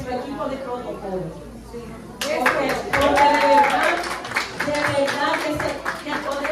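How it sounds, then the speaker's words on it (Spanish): An audience at a chamber of commerce magazine launch bursts into applause after a voice speaks, clapping loud and close for several seconds with talk continuing over it. "un fuerte aplauso a nuestro equipo de protocolo."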